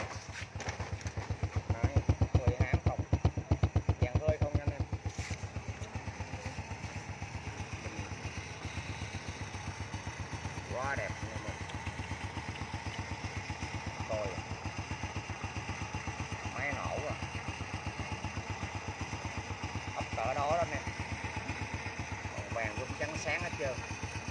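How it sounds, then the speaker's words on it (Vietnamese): A 2002 Honda Wave Alpha motorcycle with a black engine idles close by, a steady fast ticking putter running throughout that swells briefly early on, with someone talking over it. "máy nổ đó anh em."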